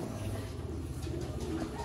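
Pigeons coo softly and continuously at close range, a low murmuring flock sound with no clear pauses.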